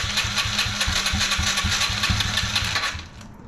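A 2005 Yamaha TTR90 dirt bike fires up after a carburetor rebuild, its small single-cylinder engine settling into a steady, rapid loud putter up close, then dropping off near the end.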